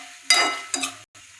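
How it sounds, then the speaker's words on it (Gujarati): Onions and tomatoes sautéing in oil in a pan, two short bursts of sizzling and scraping as they are stirred, with a brief silent gap between. "અડધું પાવડું તેલ નાખશું અને ડુંગળી ટમેટાને સારી રીતે સાતળી લઈશું"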